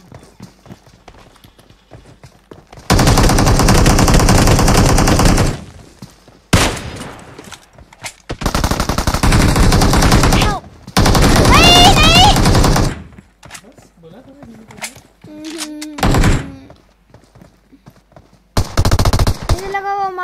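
Loud sustained automatic gunfire bursts in the mobile battle royale game PUBG Mobile, several long rapid volleys with short gaps, close and dominant, with faint voices between bursts.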